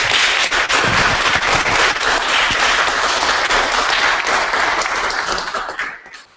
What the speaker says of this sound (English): So put your hands together.